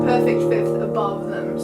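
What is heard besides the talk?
No everyday noise stands out behind the speech.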